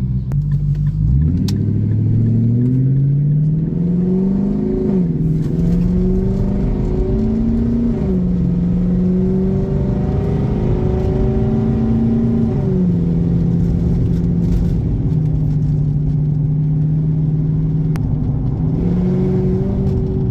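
An Infiniti M45 with a VK45DE V8 and Tomei exhaust drives along, its loud engine note rising and falling through several gear changes, close and continuous throughout.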